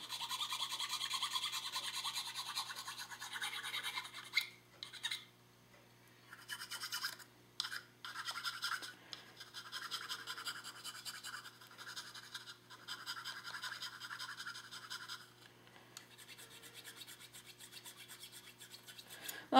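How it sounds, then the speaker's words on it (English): Sandpaper scuffs a resin figure in close, raspy rubbing strokes that come in bursts with brief pauses between, clear and alone with no speech. "I use the sandpaper after I'm done to kind of scuff up the areas that I needed to scuff up"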